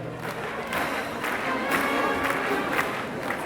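A crowd at a French championship of the écarté cattle game applauds and cheers, a broad continuous roar of clapping and shouting that swells slightly midway and holds steady, fairly loud and close.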